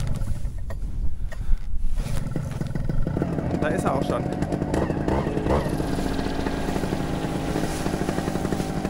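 A Scout Zero paramotor engine sputters to life and settles into a steady, buzzing idle, set slightly too high, close by, with a person speaking briefly over it.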